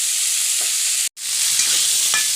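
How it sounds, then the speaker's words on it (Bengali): Flat bean seeds frying in a pan for a village-style chorchori, a steady broadband sizzle broken by a brief gap and occasional scraping stir strokes. "আমি তাই সামান্যই ভাজছি"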